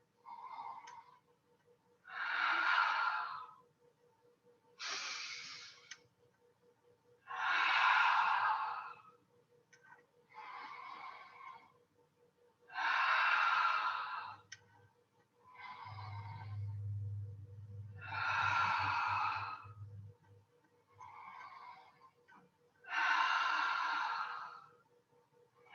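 Slow, deep breaths during a yoga balance practice, about nine long breathy inhales and exhales alternating at a steady unhurried pace, close and clear, with a faint low hum in the background.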